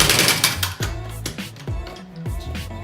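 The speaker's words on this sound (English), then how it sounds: "use the air gun to tighten them down, but not to torque them" Air impact gun tightening wheel lug bolts on a vehicle fitted with wheel spacers, giving repeated short rattling bursts in quick succession, close and loud with a mechanical hum.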